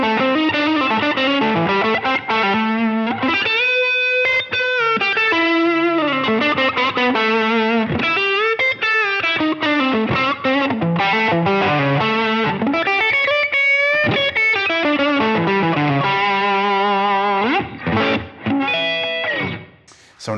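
An electric guitar on a stock Strat neck-pickup setting plays through a Line 6 Helix with a mild overdriven dirt tone, a bluesy run of sustained notes and bends filling about twenty seconds.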